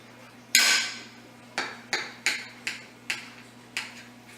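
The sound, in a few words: knife slicing pan seared oven baked pork loin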